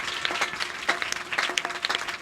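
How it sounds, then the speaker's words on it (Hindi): Applause from a congregation during a Pentecost Day sermon, a short burst of scattered claps, moderately loud and fairly close, with no talking over it. "उस डाकू के लिए भी जोरदार तालियां"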